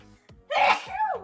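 A single loud, close sneeze bursts out after a short sharp intake of breath, with a brief breathy tail trailing off.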